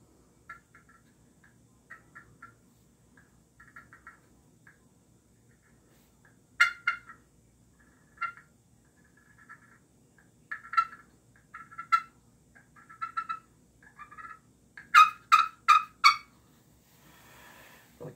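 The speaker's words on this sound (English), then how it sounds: "I'm not the best turkey caller," Glass turkey call played by hand, giving sparse soft yelps that build into louder, quicker clusters of sharp yelps and clucks near the end, heard alone and close up.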